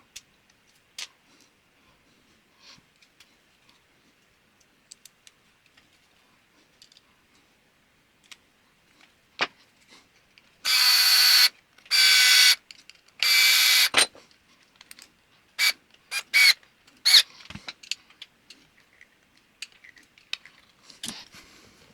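A Mugen MSB1 RC car gearbox is spun by hand with its motor mount fitted, giving three loud whirring bursts followed by scattered clicks and ticks of small parts, close and otherwise quiet.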